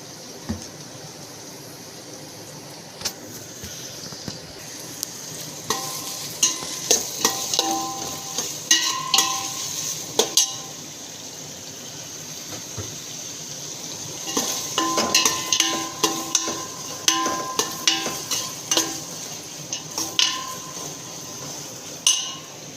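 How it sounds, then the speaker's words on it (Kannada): Onions with salt fry in oil while being stirred, a low constant sizzle broken by repeated scraping and clinking of a spoon against the pan, close up and without speech. "ಉಪ್ಪು ಹಾಕಿದ್ರೆ ಈರುಳ್ಳಿ ಸ್ಮೆಲ್ ಜಾಸ್ತಿ ಬರಲ್ಲ, ಮತ್ತು ಬೇಗ ಎಣ್ಣೆ ಒಳಗೆ ಫ್ರೈ ಆಗುತ್ತೆ."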